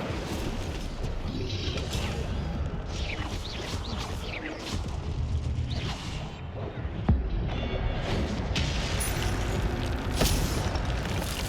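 A casting of the Incendio fire spell in Hogwarts Legacy, heard as booming, crackling magical bursts layered over a dense, continuous wash of game sound effects, with a sharp thump around the middle.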